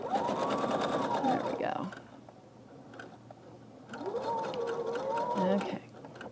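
Sewing machine stitching fabric pieces together for a quilt, two rapid close bursts of humming, buzzing stitching separated by a short pause, with someone talking briefly.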